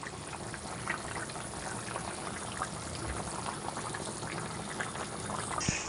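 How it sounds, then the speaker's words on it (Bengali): Chicken curry gravy from a pot of country chicken bubbles and boils in a pot, a steady, dense bubbling hiss that runs evenly throughout with no talking. "ঝোলটা ভালো টকবক করে ফুটছে"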